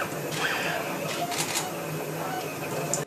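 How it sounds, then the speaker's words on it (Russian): A 3D printer building an artificial heart from human tissue, with mechanical whirring, soft clicks and brief motor tones in a steady, busy pattern at moderate volume. "3D-принтер завершает работу над первым в истории науки искусственным сердцем из человеческих тканей."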